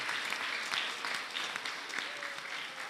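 Audience applause fills the room, a steady patter of many hands clapping at moderate distance, fairly faint, with no speech over it.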